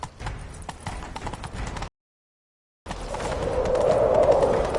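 Clip-clop of horse hooves galloping at a steady pace in The Witcher 3: Wild Hunt, cutting out for about a second of silence, then returning louder with a rising whoosh of motion.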